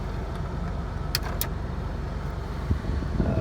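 A Toyota FJ62 engine idles steadily with the AC running, a low continuous rumble with a couple of brief jingling clicks partway through.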